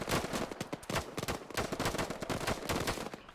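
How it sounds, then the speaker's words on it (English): Sustained gunfire in the video game Arma 3, with rapid cracking shots repeating in bursts from start to finish, fairly quiet overall, with no talk. "Okay, so I'm taking some fire here, using these rocks for cover."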